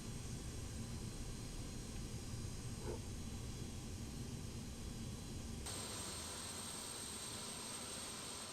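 Antonov An-225 jet engines starting up together in a flight simulator game, a steady broadband whoosh and hum at moderate level, with a high whine joining partway through; no talk.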